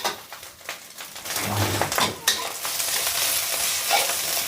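Eggs stir-fried in a hot pan for glass noodles, with steady sizzling broken by repeated scraping and stirring strokes of a utensil against the pan, close and moderately loud, no talking.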